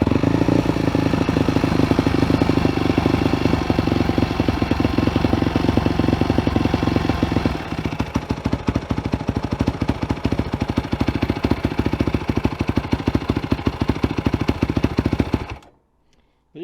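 A motorcycle engine runs steadily after being put back together, loud and close with a busy mechanical clatter, easing slightly in level partway through before cutting off abruptly near the end.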